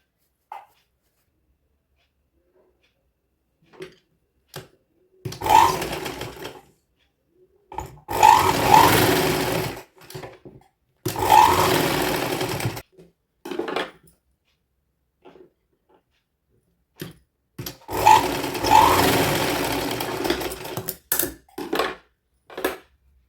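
A sewing machine stitches fabric for a dress bow, running in several short bursts of whirring separated by silent pauses, with small clicks and handling noises between runs.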